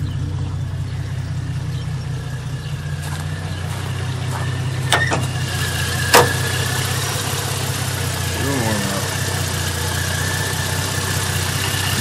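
A Jeep engine idling cold with new injectors and a new belt, a steady low rumble running throughout, close by, with a couple of brief clicks and a faint squeak over it.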